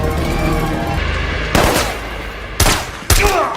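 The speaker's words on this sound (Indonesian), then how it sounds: "Suara tembak-tembakan itu terdengar hingga ke ruangan tempat Ibu Menteri diamankan" Gunfire in an action film scene during a raid on a guarded house: three sharp, loud bursts of shots cut through a busy, rumbling background, each followed by a short ringing tail.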